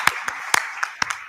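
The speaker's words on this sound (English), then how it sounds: "Big applause to Marco Miatti." A handful of separate claps ring out at a conference session, sparse and uneven, a brief scattering rather than full applause.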